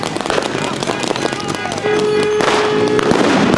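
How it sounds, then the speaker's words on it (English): Flashbangs and pepper balls fired in a rapid series of sharp pops and bangs, loud and close, over a busy background of crowd noise and voices. "Pepper balls and flashbangs."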